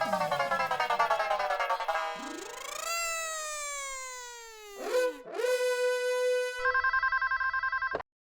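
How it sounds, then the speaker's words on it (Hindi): Telephone ringing in a household comedy scene, electronic ringtone tones sweeping and trilling, then a steady repeated ring pattern that cuts off abruptly; no talking. "हेलो हेलो टप्पू के पापा, मैं बोल रही हूँ। हाँ बोल दे, क्यों फोन किया?"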